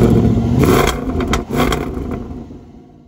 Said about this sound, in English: its lovely old-school supercharged V8 petrol engine